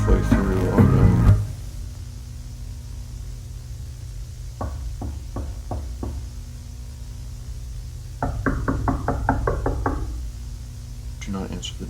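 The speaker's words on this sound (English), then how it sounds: "Do not answer the knocking at the door." Knocking at a door in a horror video being watched, two separate bursts of several quick raps each, fairly close and distinct over a low background hum, following a short stretch of speech.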